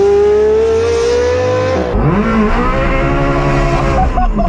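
A daily-driven Ferrari under way, its engine droning loud and near, then rising through a gear change into a higher, rasping rev that keeps climbing.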